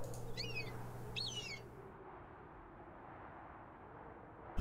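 A bird chirps twice in a short squeaky call during a puzzle in the game Myha: Return to the Lost Island, clear and close over a quiet ambient background, then silence.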